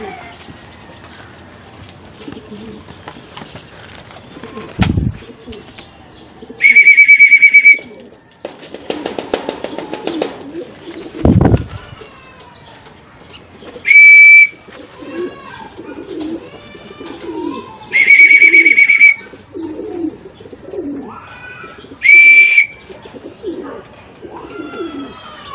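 Racing pigeons coo in a few soft, scattered bursts outdoors, interrupted by loud sharp shrill tones and people talking in the background.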